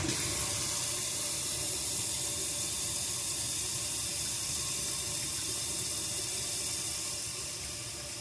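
Steady running water from a tap splashes continuously over a Briggs and Stratton carburetor being washed, a full broadband rush easing slightly toward the end with no voices.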